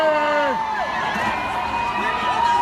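Crowd at a women's protest in Washington, D.C., cheering and whooping with high, rising shouts, loud and continuous, with a steady roar of many voices underneath.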